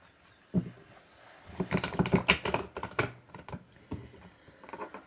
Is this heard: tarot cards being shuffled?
yes